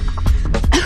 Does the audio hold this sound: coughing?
yes